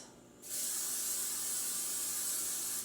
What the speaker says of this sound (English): I'm gonna spray the skillet.